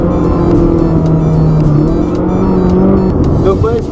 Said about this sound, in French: Et le son à nouveau avec ce moteur Ferrari